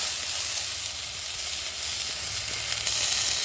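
Onion, carrot and hot pepper sizzle steadily in a pot over an outdoor fire at night, a continuous dense frying hiss with no pauses and no talking.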